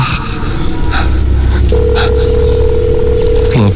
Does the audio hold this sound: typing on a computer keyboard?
no